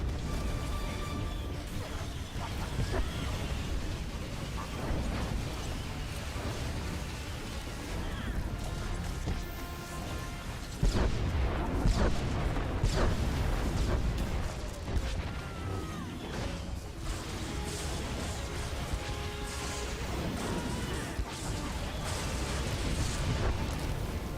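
Heavy booms and crashing impacts rumble through a 16-person Temple of Sacrifice raid operation in Star Wars: The Old Republic, layered over continuous battle effects and music for the whole stretch, with a louder surge midway.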